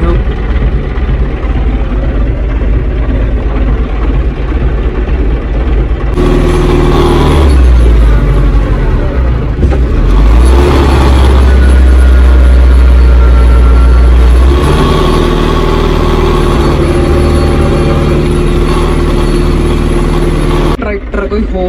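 A tractor engine labouring hard as it tries to pull out, a loud sustained low roar that swells and strains mid-way, with people talking over it.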